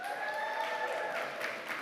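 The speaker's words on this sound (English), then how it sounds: "that got the loudest applause" An audience in New York City Council's City Hall chambers claps in a short, steady burst. The applause is fairly faint, with a few whoops or whistled tones mixed in near the start.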